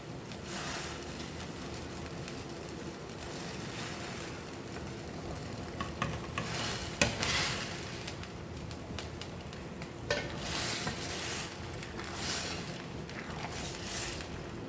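Fried palm-pulp fritters are dropped into hot bubbling sugar syrup and stirred, a steady close sizzle broken by scraping spoon strokes and occasional louder clatters.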